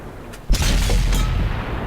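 A tank cannon fires in World of Tanks, a single loud boom with a sharp onset and a long rumbling tail over steady engine drone, close and heavy.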